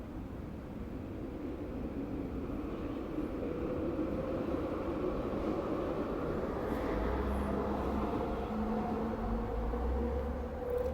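Trains passing near a house, heard as a low continuous rumble and hum that swells slightly toward the end, moderately distant and steady, with no talk.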